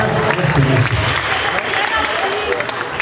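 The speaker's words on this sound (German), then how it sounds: "es ist schon wirklich mal ein Applaus wert" An audience at a karaoke event applauds the longtime karaoke host Günther, a loud, close wash of clapping mixed with crowd noise and voices throughout.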